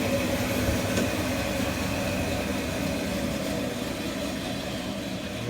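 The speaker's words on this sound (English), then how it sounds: "Good running BIRO Model 34." A single-phase BIRO Model 34 band saw running with a new blade, a steady loud mechanical drone and hum, close and continuous with no talk.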